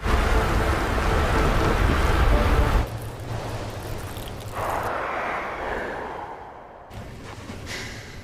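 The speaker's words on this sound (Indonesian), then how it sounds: "Dan naasnya tanpa disangka tiba-tiba badai kembali datang." Heavy rain and rolling thunder from a sudden storm in a film set in Antarctica, loud and dense at first, then easing into a softer, steady downpour with gusty wind.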